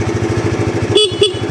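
A Honda CBR or Yamaha R15 sport motorcycle sounds two short horn blasts close by, each about a tenth of a second apart, over the steady pulsing rumble of its idling engine.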